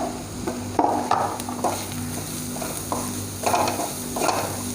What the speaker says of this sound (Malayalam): ഈ മസാലയുടെ ഈ റോ മണം ഒന്ന് പോകുന്നവരെ നമ്മൾ കുറച്ച് നേരം ഇളക്കി കൊടുക്കണം.